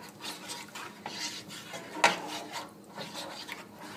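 A utensil stirs and scrapes gluten-free baking mix with garlic as it heats in a pan, a soft, close, irregular scraping with one sharper knock against the pan, and no talk.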